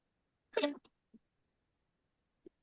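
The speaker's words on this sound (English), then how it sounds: "I'm sneezing and I'm losing my voice" A single sharp sneeze bursts out, followed by a couple of faint clicks and small breathy sounds, then quiet.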